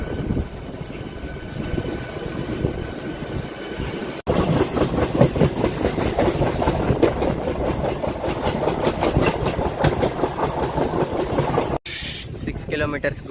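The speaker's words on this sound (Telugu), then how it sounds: "క్లియరెన్స్ రాగానే మన ట్రైన్ అనేది గుంటూరు జంక్షన్ ప్లాట్ఫామ్ నెంబర్ 7 నుండి డిపార్ట్ అయిపోతుంది." MEMU passenger train 67248 pulls out of platform 7 at Guntur Junction, a rising clatter and rumble of rolling wagons with hiss, heard from aboard after a quieter opening, then cut off abruptly near the end.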